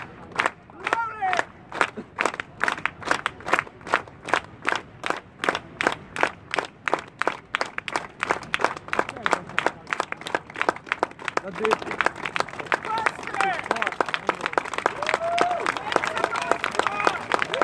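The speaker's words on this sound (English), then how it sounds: "I want everybody to do a slow hand clap in my tempo" A street crowd claps in slow, regular unison beats that gradually speed up and grow denser, with shouting voices and crowd noise rising toward the end.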